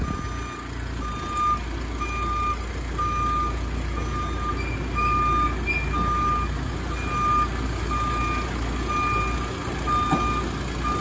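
A wireless crawler backs into a shop, its reversing alarm sounding evenly spaced, loud beeps over a low, constant engine rumble for the whole stretch, with no talking.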